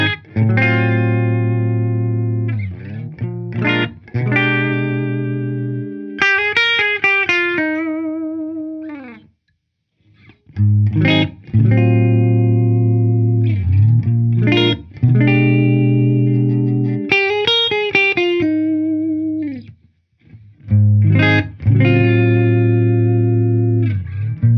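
Gibson Les Paul Classic electric guitar in a clean tone, cycling through bridge, middle and neck pickups with strummed chords and short melodic phrases, loud and close with brief pauses, no talking.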